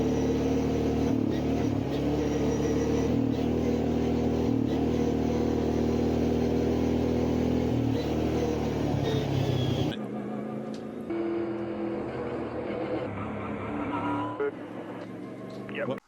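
A loud, steady high-pitched whine from the straight-cut gearbox of a Peerless 900, sustained and droning, dropping in intensity partway through as the tone shifts.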